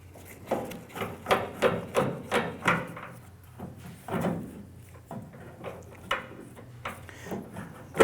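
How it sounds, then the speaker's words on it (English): Phillips screwdriver turning out the small tail light screws on a 1994-2004 Chevy S10, a run of close, rhythmic scraping and rubbing strokes, then a few softer turns and taps. "use a Phillips head screwdriver. I'm going to go ahead and remove the little screws that are holding our tail light."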